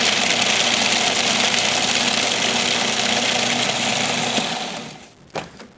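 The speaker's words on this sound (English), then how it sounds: "get those chopped up in a food processor" A food processor chops dry ingredients for romesco sauce, whirring loudly and steadily for several seconds before spinning down, with a brief clack at the end.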